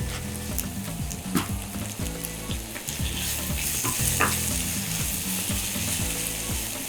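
Spinach leaves with salt and pepper sizzle and fry steadily in a hot pan for a crab and spinach quiche, a dense continuous crackle with stirring clatter, no talking.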